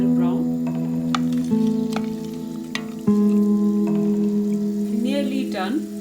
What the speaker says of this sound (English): still we need to cook till the cumin seed fry